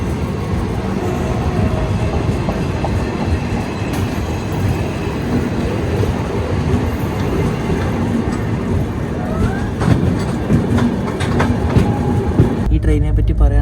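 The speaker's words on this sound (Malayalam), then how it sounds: "സബർമതി സ്കിപ്പ് അടിച്ച് ഏതോ ഒരു വണ്ടി പോകുന്നുണ്ടോ" Bhuj Pune Express train passing through Sabarmati station on the broad-gauge line, a loud, close rumble with rhythmic clickety-clack of wheels over rail joints, steady the whole way.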